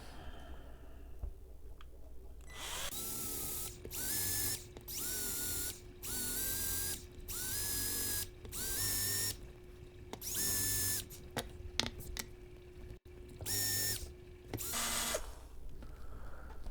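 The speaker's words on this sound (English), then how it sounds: "Well, then we're just going to drill away." A power drill whirs in repeated bursts, spinning up and biting into wood with short pauses between runs, close and steady, with a faint ratcheting click.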